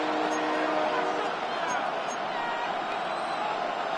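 Stadium crowd noise from a Buffalo home crowd in the Madden American football video game, a loud sustained roar of booing that stays steady throughout without letting up.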